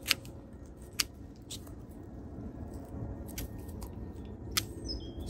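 Scissors snip juniper shoots while tipping them back for bonsai, giving a few sharp, close clicks spaced about a second apart over a quiet room background.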